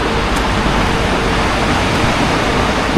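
Strong river current rushing past in the outdoors in British Columbia, a loud, steady, unbroken roar of water close by with no voices.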